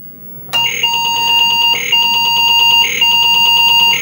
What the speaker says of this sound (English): But that is the Apple II beep.